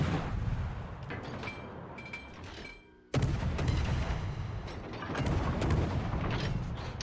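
Warship main guns fire in World of Warships, a battleship naval battle with heavy booming salvos and rumbling explosions that fill the space, a brief lull, then dense continuous thunder of gunfire.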